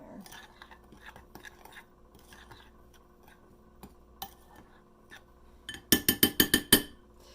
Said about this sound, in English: I'm just going to give that just a little stir around to get it mixed in there.